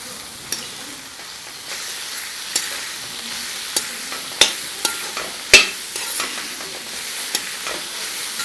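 Chopped onions and carrot sautéing in oil for a homemade samosa filling, a continuous sizzle broken by sharp intermittent clacks of a spatula against the pan, close and with no voices.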